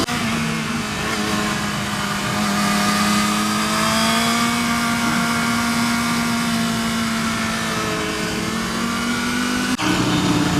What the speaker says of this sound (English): I am riding on this amazing canyon road with Mr. Snowcat from Canada.